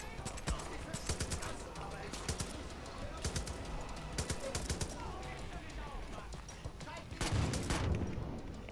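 Pistol shots in Far Cry 5 fired in quick irregular clusters, sharp and close over outdoor ambience with birds, ending in a louder flurry, while someone talks throughout.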